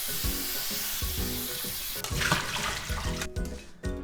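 Bean sprouts being washed in water at a home kitchen sink, with running water, splashing and swishing that rises midway, and some background music underneath.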